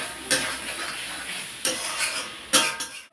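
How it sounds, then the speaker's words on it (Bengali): Boiled potatoes with chopped coriander being sautéed in a pan for a Bengali koi fish curry: three scraping, stirring strokes of a utensil against the pan over a soft background sizzle, with no talking. "ধনেপাতা কুচি দিয়ে ভালো করে একটু কষিয়ে নেব।"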